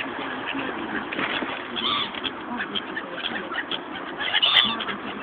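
Seagulls crowd around people eating chips, giving a mix of squawks and calls, some close and sharp, over a busy, muffled outdoor background.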